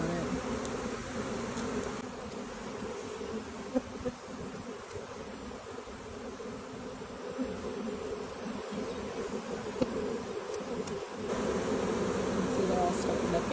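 A large spring honeybee swarm buzzes and fans in a dense, steady drone close by, with faint clicks and bumps over the continuous hum and a voice talking at times.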